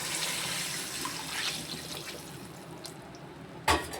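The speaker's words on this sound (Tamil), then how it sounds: "புளியை ஊற்றிக்கணும்." Tamarind water poured into a pot of fish curry, a continuous loud liquid rush that thins out, then ends with a brief sharp splash.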